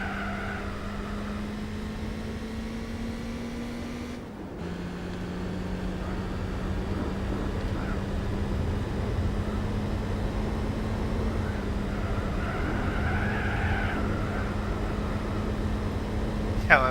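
Racing car engine in Gran Turismo 4, chasing a Jaguar E-Type, holds a steady high drone with a brief dip around four seconds, then climbs back and sustains under faint background noise.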